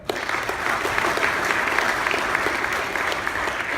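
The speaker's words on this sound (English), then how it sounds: "Please give him a clap." Audience at a club changeover meeting applauds a past president, a dense, steady burst of many hands clapping close by that fills the whole few seconds.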